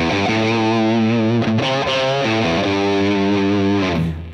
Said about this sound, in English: Very different distortion, very edgy, almost abrasive sounding.